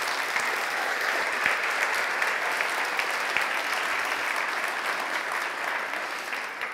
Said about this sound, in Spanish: Alguien que le dé un aplauso a Jesucristo por ello.